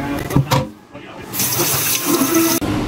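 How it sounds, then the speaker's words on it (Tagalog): Chicken liver and gizzards are rinsed under a running tap: loud, close water splashing and gushing, with a brief dip in the flow before it returns strongly. "hanguin na po natin at banlawan ng konti"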